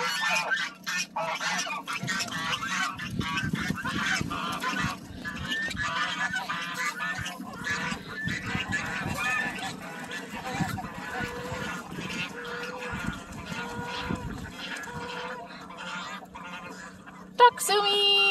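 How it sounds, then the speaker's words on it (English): Ducks quack and honk repeatedly in a noisy, lively chorus nearby, with a person talking at points among the calls. "We have some very happy ducks this morning."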